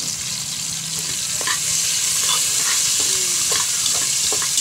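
Onion, garlic, ginger and lemongrass sauté in a pan for a Filipino beef soup, giving a steady close sizzle broken by occasional scrapes and taps of the spatula, with no voices.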